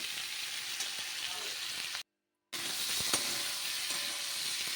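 Steady sizzling of a prawn and taro curry frying in a pan, a continuous close hiss broken by a brief half-second of silence midway, with occasional stirring clicks.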